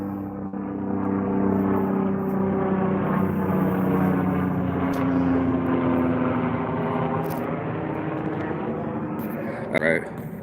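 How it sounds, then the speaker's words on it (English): Helicopters drone overhead in a steady, throbbing rumble that lingers for several seconds and slowly fades, with a voice talking over it. "Let me watch these helicopters flying over you."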